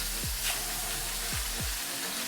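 Burger patties fry in a pan over a medium-low flame, giving a steady, dense sizzle and hiss throughout, close up, with a few low knocks or shifts underneath and no talking.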